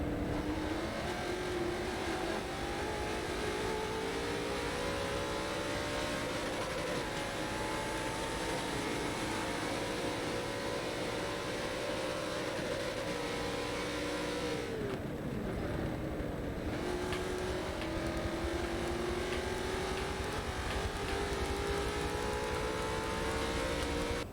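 Prototype race cars in a racing video game at Sebring drone past in a continuous engine whine, pitch sliding up and down with gear changes, a brief dip midway, then more cars pressing on through the pack.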